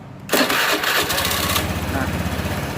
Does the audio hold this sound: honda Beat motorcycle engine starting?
yes